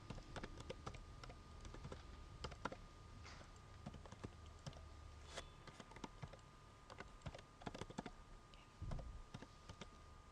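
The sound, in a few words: typing a command on a computer keyboard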